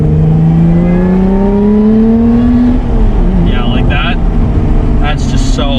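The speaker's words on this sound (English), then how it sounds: "the engine sounds right behind you are just absolutely amazing. The intake sounds, the sound even when you shift and it engages in gear." A 2021 Lotus Evora GT with a manual gearbox revs hard from the cabin, its engine note rising steadily before a gear shift breaks the climb, with intake roar and a driver talking over it.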